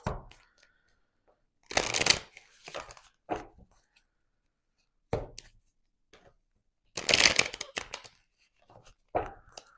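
Cards shuffled in several quick riffling bursts separated by pauses, with soft taps and thumps between, close up and no talking.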